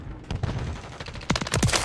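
A quick, loud burst of video game gunfire with a grenade blast, sharp overlapping shots clustered in rapid volleys.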